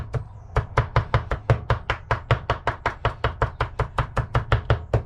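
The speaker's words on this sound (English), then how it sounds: "With a good sharp knife, this does cut it." Sharp knife chopping jalapenos on a cutting board for fresh salsa, a steady rapid series of about two dozen crisp, close knocks in even rhythm with no talk.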